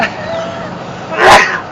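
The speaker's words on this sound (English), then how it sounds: "Sorry, I need to sneeze." A single loud sneeze bursts out near the end, preceded by a low background hum and faint murmuring on a safari drive vehicle.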